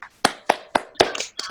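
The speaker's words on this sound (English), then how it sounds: "Give yourself a round of applause." Applause from a small open-mic poetry audience: a few sharp separate claps at first, then denser clapping that continues close by with no talk.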